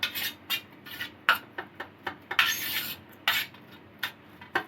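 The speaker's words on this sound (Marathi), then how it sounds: "हे सगळं असं मिक्स करून घ्यायचं" A paneer paratha filling being mixed with salt in a bowl, a utensil clinking and scraping against the bowl in a series of short, close, sharp strokes with brief pauses between them.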